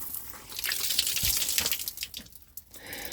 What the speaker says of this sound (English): Wonder if the hot water works.